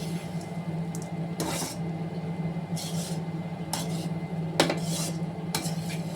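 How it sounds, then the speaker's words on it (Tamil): Lemon rice with lentils being stirred in a pan, a spoon scraping and knocking against the metal in irregular bursts, each stroke a bright clatter over a steady low hum, close and fairly loud. "இந்த பருப்பு எல்லாமே ஒன்று சேர்ற அளவுக்கு நம்ம கிண்டி விட்டுக்கிறோம்"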